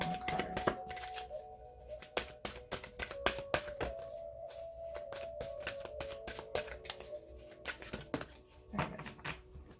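Playing cards drawn and flipped from a deck in a tarot-style card reading: a quick series of crisp snaps and slides, close and moderately quiet, with no talking.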